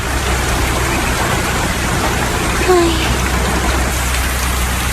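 Steady rain pours down, a dense even hiss of drops hitting surfaces without pause, no voices.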